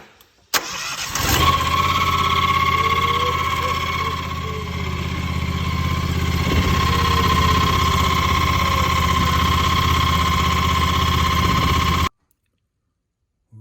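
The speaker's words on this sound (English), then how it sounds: "We're gonna fire this sucker up" A 2021 John Deere X739 Signature Series lawn tractor engine cranks and catches, then runs at a steady, loud idle for about ten seconds before cutting off abruptly.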